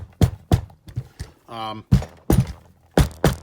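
Dull thunks ring out as a guitar is banged to free stuck parts during a build, a series of close, irregular knocks with a brief spoken remark in the middle.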